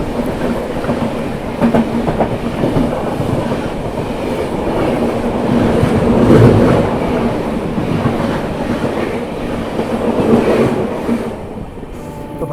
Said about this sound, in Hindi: ये थी 12309 राजेंद्र नगर टर्मिनल, न्यू दिल्ली, तेजस राजधानी